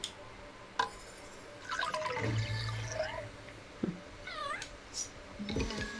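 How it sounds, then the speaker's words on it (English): A cat meows a few times in the video game Kena: Bridge of Spirits, drawn-out and wavering, amid soft watery ambience and scattered clicks. "Sounds like a kitty cat."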